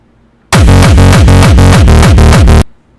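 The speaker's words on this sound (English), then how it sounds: "here's the Frenchcore kick." A Frenchcore kick drum programmed in FL Studio pounds in a fast, steady four-on-the-floor pattern, loud and heavily distorted, each hit carrying a falling pitched tail, running for about two seconds before cutting off abruptly.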